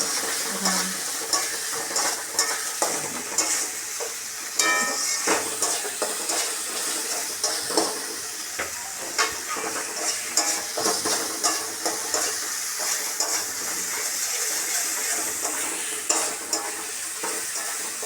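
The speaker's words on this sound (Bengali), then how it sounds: "একসাথে সব দিয়ে দিব মশলাগুলো। ভালো করে কষিয়ে নেব।" Ground ginger, cumin and garam masala paste sizzle and fry in a pan while being stirred, with a steady hiss of frying and irregular scraping strokes running throughout, close and fairly loud.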